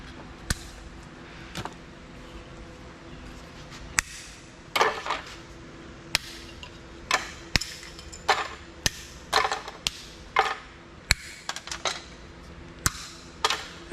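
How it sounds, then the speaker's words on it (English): A hammer strikes scrap electronics from a heavy power backup unit in sharp irregular blows, some single and some in quick bunches, close and loud over a quiet background. "All right, Ian, I like that hammer."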